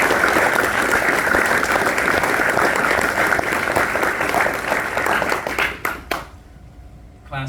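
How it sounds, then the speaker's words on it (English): A graduation audience claps loudly for a brass quintet with an Army tuba instructor and a trombone student, and the dense applause fades out near the end. "So, round of applause for them"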